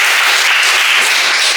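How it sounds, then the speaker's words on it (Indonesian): A classroom of students applauds a classmate named Basri, a dense, steady burst of clapping that fills the short moment at full loudness with no voices over it. "tepuk tangan untuk Basri"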